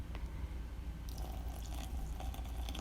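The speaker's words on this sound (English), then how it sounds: "I slowly poured the milk over my hot cocoa bomb" About 12 ounces of heated milk is slowly poured over a hot cocoa bomb in a mug, making a soft, close liquid splash that thickens into a fuller pouring stream partway through.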